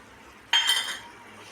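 A spoon scrapes and clinks once against a pan while stirring a thickening poha and sugar mixture, a short bright metallic stroke over low kitchen hiss.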